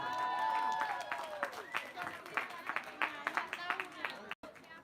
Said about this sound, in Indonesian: Mana supporternya? Tepuk tangan yang meriah.